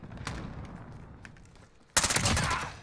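Gunfire in Call of Duty: Modern Warfare crackles faintly early on, then a sudden loud burst of rapid shots erupts near the end.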